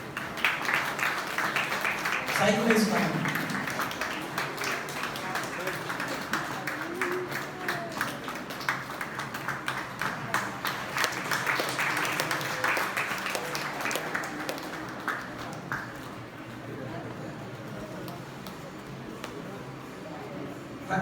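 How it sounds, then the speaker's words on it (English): An audience claps through a Values Olympiad event based on the Bhagavad Gita, a dense, steady patter of many hands that gradually thins out, with a host talking over it. "Everyone clap."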